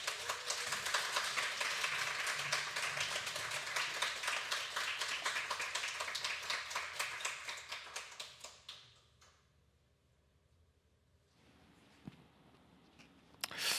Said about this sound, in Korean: 목사님 올라오실 때 뜨거운 환영의 박수 부탁드리겠습니다.